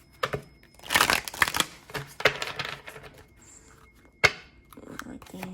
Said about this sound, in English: Let's shuffle, let's pull.